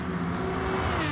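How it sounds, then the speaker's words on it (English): A race car engine in a racing video game holds a steady high rev for about a second, a continuous buzzing drone at moderate volume. "he seems to be pretty much revving it out"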